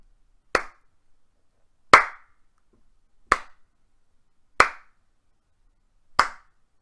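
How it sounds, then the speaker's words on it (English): Slow clap, five sharp, isolated hand claps spaced evenly about a second and a half apart, crisp and close with silence between each. "The insidious, slow clap from a rival sorcerer whose plans have been accelerated."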